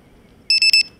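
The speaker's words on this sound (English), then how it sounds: "I also use a low voltage battery buzzer on everything I fly." A low-voltage battery alarm buzzer on a QR X800 drone sounds three loud, shrill beeps in quick succession after a quiet start, with no other sound around them.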